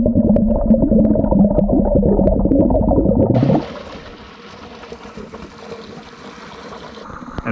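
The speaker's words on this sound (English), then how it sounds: "this whole run here is just like a flowing creek." Spring water runs like a flowing creek at a desert spring along the Mojave-Sonoran Trail near Valley of Fire, a loud close rush that drops to a softer, steady trickle partway through.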